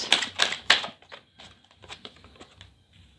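Tarot cards shuffled roughly by hand, a few loud crisp riffling bursts up front followed by softer, scattered card flicks and taps, close and alone with no talk.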